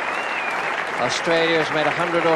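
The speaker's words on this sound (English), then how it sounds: "A marvellous ovation from the crowd, from his teammates" Crowd applauds in a cricket ground as Australian batsman Graeme Wood reaches his test century, steady clapping beneath a commentator's voice throughout.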